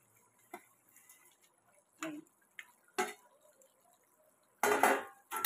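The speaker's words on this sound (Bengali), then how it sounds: "এই মাছগুলো এবার আমি ঢেলে দিচ্ছি" Loitta fish pieces being poured into a metal plate in a home kitchen, giving scattered clinks and taps of utensil on metal, then a louder clattering scrape near the end.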